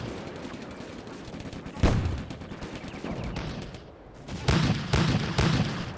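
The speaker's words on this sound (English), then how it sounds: "this tank, I think Panzer 2C is actually firing this position." Gunfire from a Panzer II C tank in the Combat Mission: Afrika Korps war game, with a sharp shot near two seconds and further loud bursts of battle fire toward the end over a continuous rumbling din.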